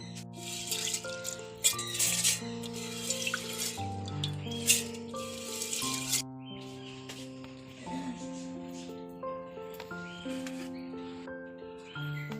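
Rice is swished and rinsed in water in a few bursts of splashing and rattling, with music playing underneath.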